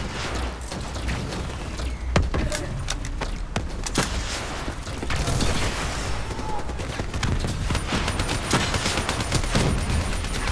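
Dense, continuous gunfire fills a Call of Duty: Black Ops III battle, with rapid automatic bursts and sharp individual cracks piling up loudly over a rumbling backdrop of explosions and combat noise.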